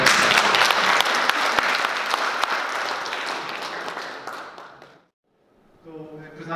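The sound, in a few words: audience applause for a lecturer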